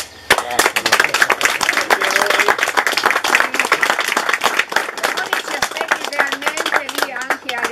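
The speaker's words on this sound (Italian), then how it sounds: "un applauso" Audience applause for Roni at an art colony gathering at an agriturismo, a dense burst of clapping that starts abruptly and carries on steadily, with voices mixed in beneath it.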